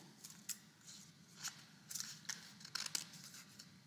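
Scissors cutting paper arm shapes for a craft, a series of quiet short snips spaced irregularly over a faint steady background hum, with no talking.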